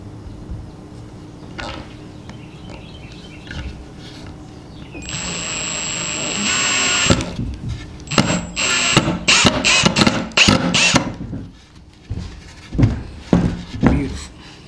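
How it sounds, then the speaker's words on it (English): A power drill drives a screw into wood on a trellis jig: a sustained whine for about two seconds, then a string of short bursts as the screw is set. Light talk comes before it. "drive a screw"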